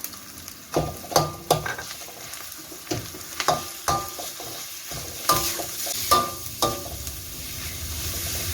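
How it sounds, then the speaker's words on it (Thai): Minced pork hits hot oil with sliced onions in a pan, a steady sizzle broken by repeated scraping stir strokes from a spatula, loud and close, with no talking. "เราก็ใส่หมูสับลงไปเลยค่ะ"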